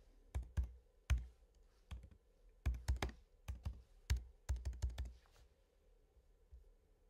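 Keystrokes on a computer keyboard type a search into a WordPress dashboard, coming as uneven bursts of close, crisp clicks with short pauses between them and no talk.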